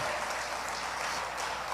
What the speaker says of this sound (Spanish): Dele fuerte las palmas al Señor en el nombre de Jesús.